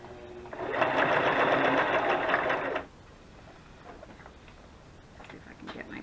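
A sewing machine runs steadily as it stitches a zigzag on burlap for lace embellishments, a loud continuous whir for about two seconds that then stops, leaving quiet room tone.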